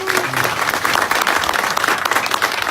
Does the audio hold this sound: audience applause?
yes